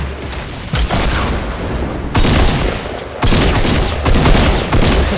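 Loud rocket launcher explosions in the Fortnite battle royale game, several heavy booming blasts arriving in bursts about a second apart, each with a long rumbling tail, with no talk over them.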